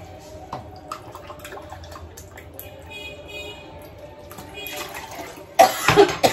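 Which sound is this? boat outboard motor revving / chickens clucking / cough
cough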